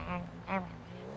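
A person imitates duck quacks with two short nasal quacks in quick succession over low background noise.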